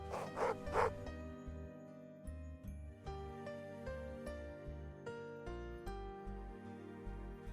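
Dogs bark in a quick cluster of three or four yaps at the start of a Telugu moral story soundtrack, then music with a steady beat carries on alone.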